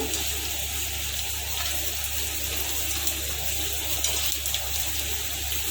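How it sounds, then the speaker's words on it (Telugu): Ready-made pani puris frying in hot oil, four or five at a time, make a steady, even bubbling hiss that runs unbroken and fairly loud throughout, with no talk. "పూరీలు ఫ్రై చేస్తున్నాను."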